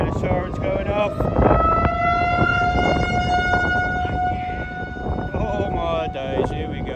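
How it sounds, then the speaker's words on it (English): Tornado sirens wail across Watertown, South Dakota during a tornado-warned derecho storm, a steady rising and falling tone carrying over loud wind noise with a person talking over it. "Tornado sirens going off."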